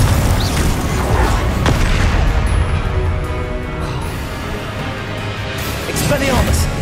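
Hogwarts Legacy Glacius and Pinfringo spell effects in a loud magical battle, dense rumbling booms and bursts layered with clattering impacts and a shimmering high ring, blasts swelling at start and end.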